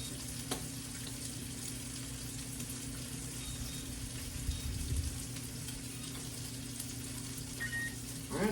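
Bacon fries steadily in a pan, a continuous close crackling sizzle with a low hum underneath and a brief clatter midway, no voices over it.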